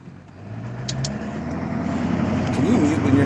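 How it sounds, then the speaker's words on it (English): A pickup truck engine rumbles steadily over a call line, building slightly in loudness as it runs, with a voice talking over the engine noise. "we don't want to hear your fucking hillbilly truck"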